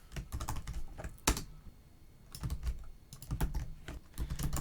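Fast typing on a computer keyboard while writing Java code for a point-and-click adventure game, with bursts of close clicking keystrokes separated by brief pauses.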